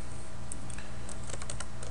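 Quick, close clicking of keys on a computer keyboard while text is typed, a brief irregular burst of taps over a low background hum, with no talking.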